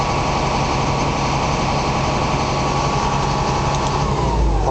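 A GMC tender truck engine holds a fast idle around 1,500 RPM, a loud, steady, close-up drone with no talking.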